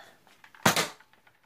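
A Nerf Zombie Strike Quadrot toy blaster fires a single dart, a sharp, close pop that fades quickly in a quiet room.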